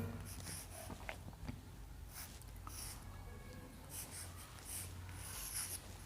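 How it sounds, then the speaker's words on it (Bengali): Chalk or marker scratches across a board as a word is written out in an English spelling lesson, with short repeated strokes in bursts over a quiet room hum and no speech. "আমি তাই লিখে দিচ্ছি"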